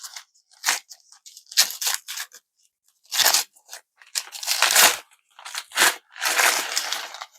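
Packaging around a Lord Ganesha statue being torn and unwrapped, with bursts of crinkling and crunching plastic or paper in irregular close-up clusters, separated by short pauses.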